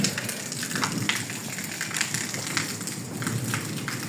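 Heavy rain pours steadily in a continuous dense patter with scattered sharper drops on surfaces, close and fairly loud, during a storm in Pakistani Punjab, with no voices.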